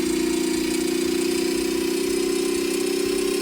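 A homemade transmission spins a weight while revving in second gear, giving a steady, close mechanical drone with a strong even hum and a fine rapid rattle, unbroken and alone throughout.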